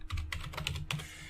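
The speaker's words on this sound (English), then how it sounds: "if you simply just type something like netprobe" Rapid keystrokes on a computer keyboard as a command is typed, a quick burst of close, crisp clicks with no voice over them.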